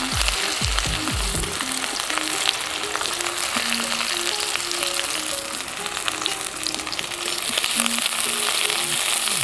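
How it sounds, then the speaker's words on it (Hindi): Chopped onions frying in hot oil in a kadhai for veg chowmein, giving a loud, steady sizzle with brief clatter at the start, close and continuous with no talking. "और प्याज को हम हल्का सा भूनने देंगे।"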